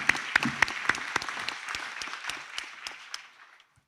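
A graduation ceremony crowd applauds graduates with steady clapping and a few sharp claps standing out, the sound thinning and fading over about four seconds.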